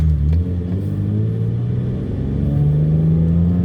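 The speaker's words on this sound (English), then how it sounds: "So we're doing a freeway pull right now." BMW M54 inline-six engine with a modified intake manifold pulling hard on the freeway, a steady loud raspy drone climbing slowly in pitch with road rumble underneath.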